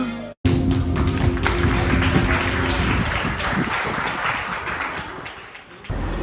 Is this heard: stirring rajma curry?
no